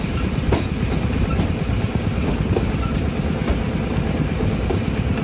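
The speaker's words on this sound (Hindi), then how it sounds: "फाइनली ट्रेन हमारी बहुत ही खूबसूरत रेलवे स्टेशन पर पहुंच चुकी है।" Awam Express rolling slowly into Attock Khurd railway station: a loud, steady rumble of wheels and carriages close by, with regular clicks from the rails running through it and no voices.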